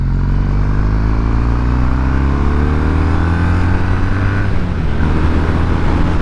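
A 2022 Kawasaki W800 motorcycle pulls hard under acceleration, its steady engine drone rising in pitch over about six seconds, loud and close with no talking.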